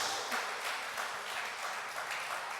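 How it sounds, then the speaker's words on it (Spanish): Church congregation clapping in applause during a Spanish-language sermon, an even wash of many hands heard at a distance and fairly faint, continuing without a break. "¿Cuánto le puede dar un fuerte aplauso a Jesús?"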